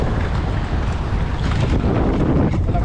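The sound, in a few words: strong wind blowing on the microphone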